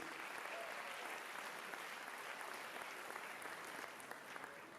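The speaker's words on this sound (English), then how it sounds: "let's give these guys a round of applause" A gathering of school district teachers applauds, a continuous dense patter of many hands at moderate distance holding steady and tapering slightly near the end.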